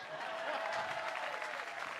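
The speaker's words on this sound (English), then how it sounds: "Y'all need to give that guy a round of applause." Dense, steady applause from a crowd at a live Friday night show, loud and continuous throughout, with a faint tonal voice or cheer riding over it.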